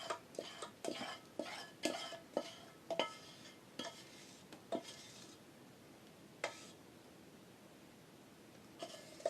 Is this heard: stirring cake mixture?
yes